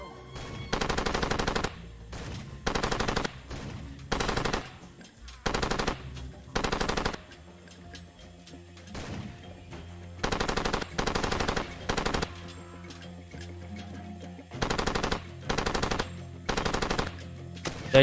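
Video game gunfire in Far Cry 2, loud bursts of automatic weapon fire coming in repeated rapid volleys separated by short pauses, with a faint background hum between them.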